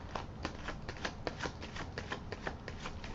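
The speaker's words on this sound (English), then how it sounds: "I'm going to shuffle some more" Tarot cards being shuffled close up, a steady stream of crisp papery riffles and soft slaps repeating every fraction of a second, with no talking.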